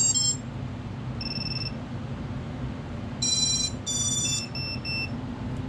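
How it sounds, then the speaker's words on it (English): A 6S FPV drone's onboard beeper on a 6-inch Armattan Rooster build sounds several short, shrill tonal beeps in uneven bursts over a steady background hum. "the beeper works too"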